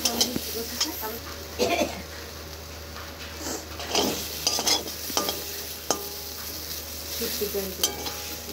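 Spices sizzle softly in a pan while a utensil scrapes and stirs in irregular bursts; faint background voices are present.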